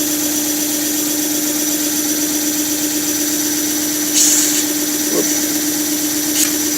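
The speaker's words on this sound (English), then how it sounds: "Now you see what I've done is I've just basically sanded off a little bit." A power sander runs continuously on wood during domino joint pre-assembly, making a loud, steady whirring drone with a few brief scraping surges near the end.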